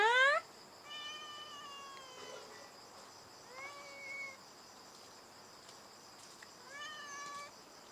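A hungry cat meows repeatedly while food is being put out, with several drawn-out, fairly quiet calls spaced apart over faint insect chirping and a brief louder sound at the start.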